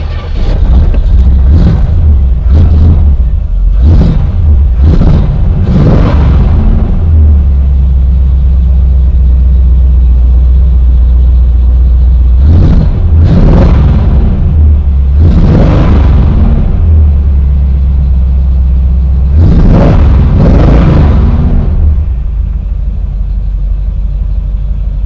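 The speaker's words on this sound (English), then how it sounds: "I'll start it up for you." A Corvette with dual exhaust starts up close by, its engine rumbling loudly with a series of sharp revving blips and roars in bursts over a constant deep idle.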